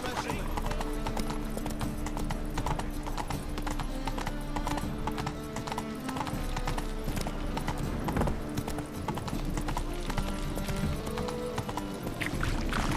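Roach the horse gallops in The Witcher 3, a fast, rolling clip-clop of hooves that runs unbroken and close, layered over dense game music and ambience, with a faint neigh along the way.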